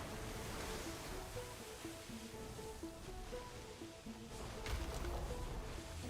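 Ocean waves wash and surge in the video game Sword of the Sea, a soft, steady rolling hiss of surf with a swell building near the end, faint and distant with quiet music beneath.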